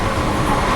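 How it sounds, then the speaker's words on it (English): A train travelling from Amsterdam toward Haarlem, heard from inside the carriage as a loud, steady rumble with broad rolling noise throughout. "we're on a train. We're heading out of Amsterdam towards Haarlem."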